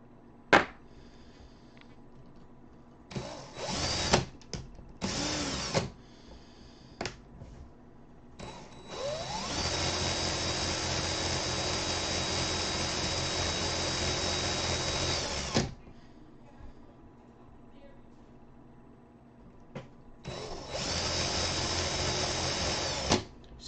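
A power drill winds and tensions wire for a basic staple coil, running in short loud bursts at first, then a steady six-second spin and another long whir near the end.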